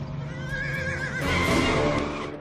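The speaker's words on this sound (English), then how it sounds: "He's on a horse!" A cartoon horse neighs in a long, loud whinny with wavering pitch, rising into a rougher cry toward the end, with busy soundtrack underneath.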